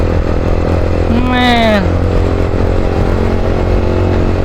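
A Yamaha R15 sport motorcycle engine runs with a steady loud drone throughout, a quick rising rev swelling in the middle, while a voice speaks briefly nearby.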